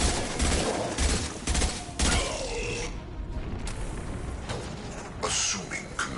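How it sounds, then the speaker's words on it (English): Heavy high-impact gunfire from the video game Mass Effect 2, several loud booming shots in quick bursts during the first three seconds, then scattered mechanical clatter and a few sharper cracks near the end, with a voice speaking briefly. "Firing a high-impact shot."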